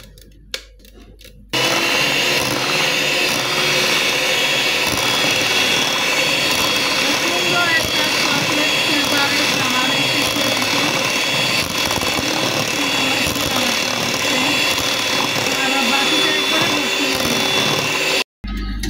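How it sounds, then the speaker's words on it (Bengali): An electric blender whirs continuously and loudly for about seventeen seconds, beating eggs into foam for a cake batter, then cuts off abruptly. "তো এখন আমি আর 2 মিনিটের মতো বিট করে নিব। নেওয়ার পরে বন্ধ করে দেবো ব্লেন্ডারটা।"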